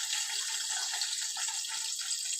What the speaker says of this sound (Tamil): ஆற வச்சு வச்சுருக்கிற பாலையும் ஊற்றிக்கலாம்